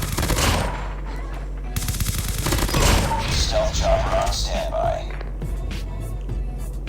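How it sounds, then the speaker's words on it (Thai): Video game gunfire crackles in bursts, with several shots and impacts mixed among other game sounds, fairly loud and close, heard through a budget Plextone G25 gaming headset. "เสียงยิงจากขวามาตัวหนึ่งครับ"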